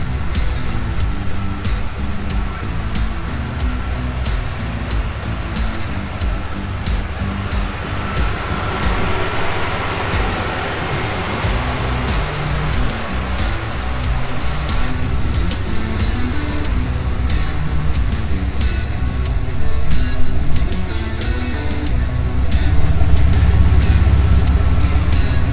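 A Chevrolet Blazer, newly fitted with a radiator, rumbles along in a steady, loud engine and road drone that swells slightly near the end, with no talk.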